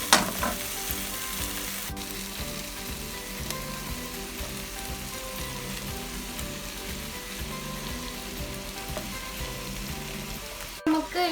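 Onions tipped into a pan of softened tomato crackle and sizzle in a steady, close frying hiss with faint tonal hum underneath, holding loud and even throughout with a brief clatter near the end.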